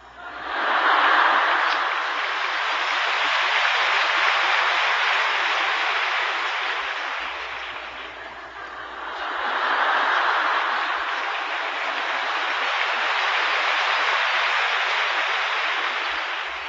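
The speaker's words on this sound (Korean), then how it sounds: "이 강연 중에 자연 발생적으로 박수를 연속으로 치는 건 이건 수준이 있는 분들입니다" A lecture audience claps in long continuous applause, a dense, loud wash of many hands that dips briefly in the middle and then swells again, with no talking over it.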